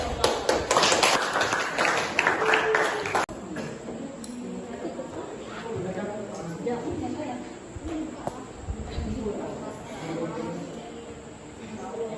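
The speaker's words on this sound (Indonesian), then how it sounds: "Tepuk tangan dulu." Students in a high school classroom clap their hands in a loud, rapid burst that fills the first three seconds and then stops abruptly, followed by murmuring voices and room chatter.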